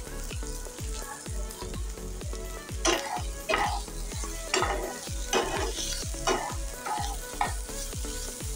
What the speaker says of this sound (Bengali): নারকেল দিয়ে একটুখানি ভাজা ভাজা করে আমরা ওটাকে নামিয়ে দেব।